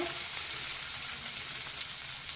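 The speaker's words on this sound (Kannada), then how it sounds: "ನೋಡಿ, ಈಗ ಸ್ವಲ್ಪ ಇದನ್ನ ಫ್ರೈ ಮಾಡ್ಕೋತೇನೆ ಎಣ್ಣೆಯಲ್ಲಿ" Green chili, chopped garlic and a byadgi chili frying in hot oil in a pan, a steady close hiss and crackle of sizzling with faint stirring and no voices.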